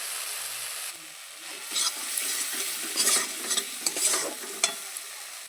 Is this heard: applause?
no